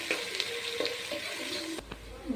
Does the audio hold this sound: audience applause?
no